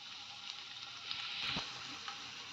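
Raisins frying in a pan of hot oil with garlic for dill leaf rice, a steady close sizzle running throughout with a few brief crackles and pops.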